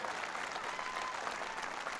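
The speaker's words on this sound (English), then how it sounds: "Give them a big round of applause." Audience applause at a political speech at Nike headquarters, a steady, dense wash of clapping from a large crowd, moderately distant and continuous.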